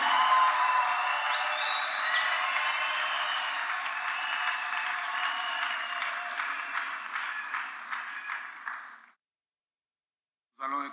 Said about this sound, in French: Nous acclamons quand même le Seigneur